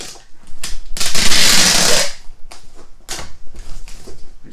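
Packing tape pulled off the roll and pressed down to seal a cardboard shipping box, a long loud tearing screech followed by shorter rips and rubbing, close and clear.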